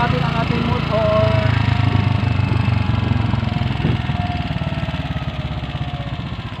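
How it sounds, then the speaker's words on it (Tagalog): A motorcycle engine idling steadily near a waterfall trailhead as it is being parked, a close, even, chugging putter that gradually fades slightly toward the end. "Pero ipapark muna natin ang ating motor."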